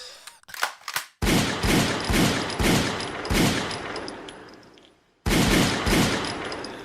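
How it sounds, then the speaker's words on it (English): Gunshot sound effect: a rapid volley of sharp, loud shots in two bursts, broken by a brief silence, then a final burst that fades out. "I guess the gunshots wasn't the best sound effect to use"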